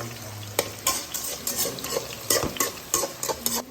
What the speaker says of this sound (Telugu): అలాగే ముక్కలైతే మంచిగా ఆయిల్లో ఫ్రై అవుతున్నాయండి